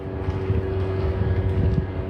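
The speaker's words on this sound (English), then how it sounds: "I hear an airplane." A propeller airplane drones steadily overhead along the coast at La Jolla, California, a low continuous engine hum with no talking.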